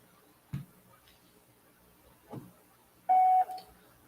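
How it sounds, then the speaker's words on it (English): A voicemail beep on a phone call: a single steady electronic tone of about a third of a second, preceded by faint clicks and line noise on an otherwise quiet connection. "The longest wait for a beep ever."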